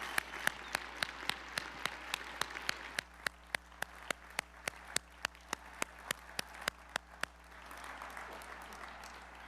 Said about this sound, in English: Let's give these newly commissioned officers another big round of applause.